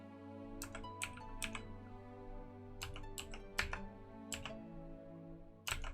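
Computer keyboard keys pressed while playing Genshin Impact, sharp close clicks arriving in irregular clusters of two to four presses separated by short pauses, over a faint steady hum.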